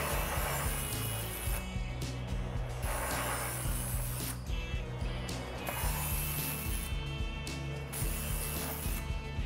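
An electric knife sharpener whirs steadily while a dull blade is drawn through its slots several times, producing a continuous grinding hum with repeated rasping passes, close and moderately loud, with no talking.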